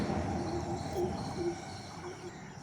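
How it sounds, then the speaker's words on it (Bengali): An unidentified bird calls in the morning in a natural outdoor setting, giving a few low, hooting notes repeated at intervals over a faint, steady background. "আর এখন একটা কি পাখি ডাকছে"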